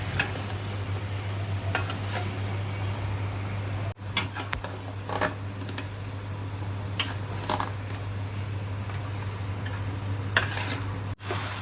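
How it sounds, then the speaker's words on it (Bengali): Beef cooks in a pot while a spoon stirs it continuously, scraping and clinking against the metal over a steady sizzle, close and even throughout. "এবং আমরা কন্টিনিউয়াসলি নাড়তে থাকবো যাতে মাংস পাতিলের নিচে লেগে না যায়"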